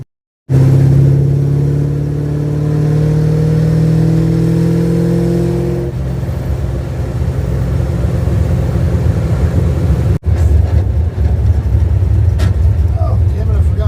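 An old rat rod car, parked since 1999 and now driven again, revs its engine with rising harmonic whine while moving, followed by loud, rough broadband engine and road rumble.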